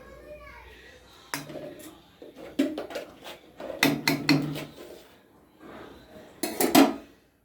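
A metal lid goes onto a wok holding a little oil in a home kitchen. Several sharp clanks and knocks of cookware come in uneven bursts, louder toward the end, with people, including a child, talking around them.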